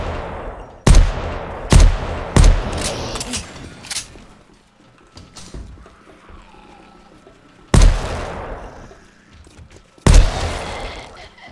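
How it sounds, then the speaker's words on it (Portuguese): Gunshots ring out at zombies in 7 Days to Die, single loud sharp cracks and a quick double shot spaced across several seconds, each trailing off, with quiet game ambience between. "Atirando no corpo, tá?"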